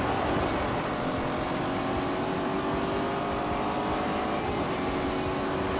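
A car driving fast in The Grand Tour video game, a steady loud engine roar held for the whole stretch with no breaks and no voices.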